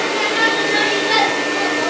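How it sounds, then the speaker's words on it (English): A vacuum cleaner runs steadily on a rug at close range, a continuous broadband whirring drone with slight swells in pitch and no pauses. "training Connor to do these vacuum lines"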